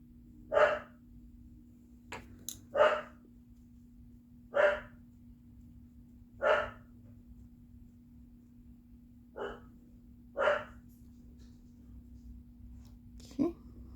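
Dogs bark indoors in short, sharp single barks, about seven of them spaced a second or two apart against a steady low hum, fairly close and moderately loud.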